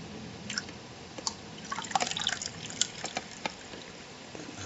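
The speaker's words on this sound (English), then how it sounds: "That's the sound of me pouring more coffee" Coffee is poured into a cup in a few uneven trickles and drips, close and fairly quiet, with no one talking.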